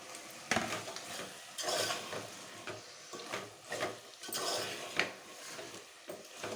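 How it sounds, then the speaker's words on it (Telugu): Chicken going into a pan of tomatoes and masala for chicken biryani and being stirred, bursts of sizzling with scraping spoon strokes in an uneven rhythm, fairly quiet and close, without talk. "ఇప్పుడు కలుపుకున్న చికెన్ దీంట్లో వేద్దాం."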